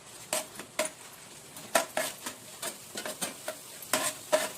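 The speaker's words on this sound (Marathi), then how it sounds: "थोडे डाळ तळून घ्यायचे अर्धवट" Peanuts and dal fry in hot oil in a pan for a spicy Maharashtrian bhadang snack, with a soft steady sizzle under repeated scrapes and clinks of a spoon stirring against the metal, close and fairly quiet.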